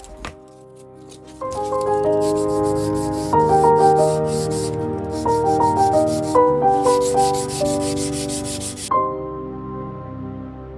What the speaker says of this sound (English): Smooth your grooves out with 120 grit sandpaper.